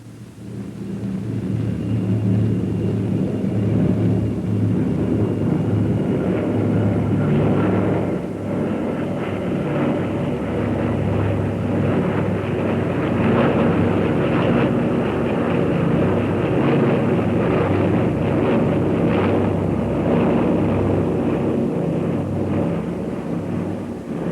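The Bristol Brabazon, a large propeller airliner with eight piston engines coupled in pairs, drones loudly and continuously in flight, its deep engine roar steady throughout, with no voices.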